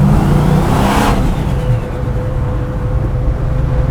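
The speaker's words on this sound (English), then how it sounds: "hearing the turbo chuffing from behind you" A V8-powered van with a rear-mounted turbo drives under load, its engine droning loud and steady with a brief rising whoosh, heard from inside the vehicle with no talking.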